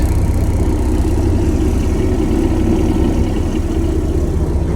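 Inside the cab of Chuck Snow's cabover Mack truck, high-speed direct, the engine runs with a loud, steady, low rumble that fills the whole stretch and does not rise or fall.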